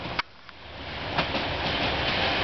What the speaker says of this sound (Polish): Ten pociąg leci tutaj przelotem, nie zatrzymuje się